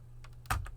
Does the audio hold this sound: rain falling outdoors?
no